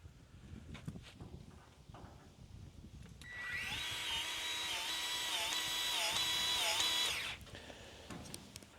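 A new powered grease gun pumps grease into a clogged zerk fitting, its motor whining steadily for about four seconds between quieter handling noises.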